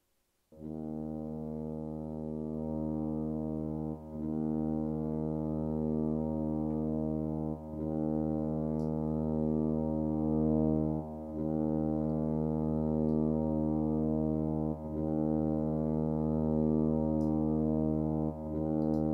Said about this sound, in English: Okay, we got our tuba set.